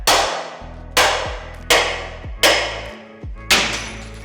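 Five sharp metallic hammer strikes knocking welds off a Toyota Stout Land Cruiser steel chassis, evenly spaced about a second apart, each ringing briefly before the next blow.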